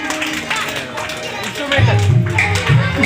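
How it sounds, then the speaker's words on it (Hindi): At a Republic Day event, an audience applauds to welcome a performer on stage. Scattered, loud claps rise into a fuller burst near the end, overlapping a host talking over a microphone and music in the background. "जोरदार ताली के साथ स्वागत कीजिए इसका"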